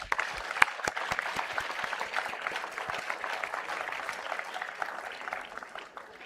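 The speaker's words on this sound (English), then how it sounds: "Let's give them a big round of applause." Sustained applause from a convocation audience for medalists and graduates, steady and fairly distant, filling the hall for several seconds and slowly fading toward the end.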